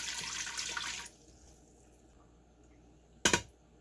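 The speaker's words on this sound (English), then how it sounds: "I've got 2 cups of water." Two cups of water pour into an Instant Pot in a brief splashing stream lasting about a second, followed by quiet and a short clatter near the end.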